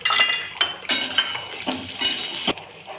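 Grated green coconut and chillies sauté in a pan for restaurant-style coconut chutney, with a spoon repeatedly scraping and clinking against the metal over a light sizzle, close and alone.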